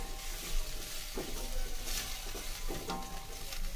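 Vegetables with fresh coriander and green onion tops being mixed in a hot pan, steady sizzle with intermittent scraping stir strokes, close and fairly loud throughout.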